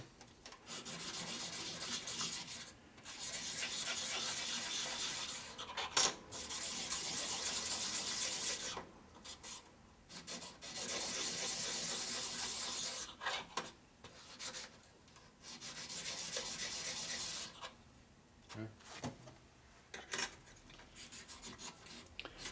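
Parts of a 1941 Harley WLD 45 flathead stroker motor are honed by hand in long, steady rubbing strokes. The strokes repeat in bursts of a few seconds with short quiet gaps between them.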